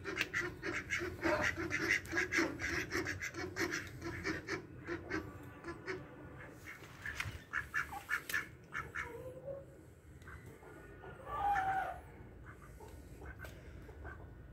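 Mallard ducks quack in a busy, loud chorus close by, a dense stretch of calls thinning out partway through, with a honking goose-like call rising near the end.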